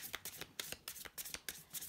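Tarot cards being shuffled by hand at close range, a quick series of crisp riffling bursts with short pauses between them, no voice.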